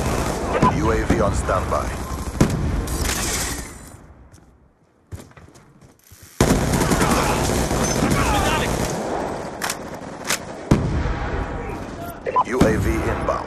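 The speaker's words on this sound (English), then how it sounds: "Hostile death machine spinning up." A Death Machine minigun roars through Call of Duty Demolition overtime as dense, continuous automatic fire with booming blasts, breaking off briefly mid-way before a long unbroken barrage resumes, while a radio voice talks over the action.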